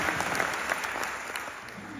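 Audience applause in a London theatre during an onstage talk, a steady dense patter of many hands at moderate level, fairly distant, with no clear voices over it.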